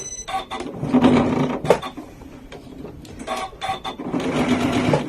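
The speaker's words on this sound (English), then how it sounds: "then go straight in and sew within 1 centimetre of your seam allowance" A Janome sewing machine stitches a fabric seam in short, uneven bursts of close, moderately loud mechanical whirring, broken by brief pauses and light clicks.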